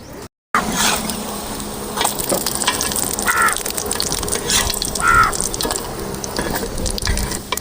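Moong dal cutlets frying in ghee in a pan on a village stove, a steady close sizzle with bursts of louder crackling as they are turned, no talking.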